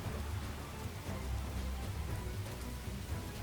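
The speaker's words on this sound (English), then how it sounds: "Oh, this map has rain on it." Rain ambience plays as a sound effect on a virtual tabletop map during a Pathfinder 2e game, a steady dense hiss of falling rain with a low rumble underneath, constant and fairly loud with no voices.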